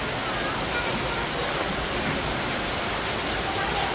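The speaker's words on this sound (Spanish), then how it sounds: "miren, acá viene donde el agua cae" Water falls from spouts at a bathing resort in Santa Ana, El Salvador, a loud, constant, close-up rush that fills the whole clip without letup.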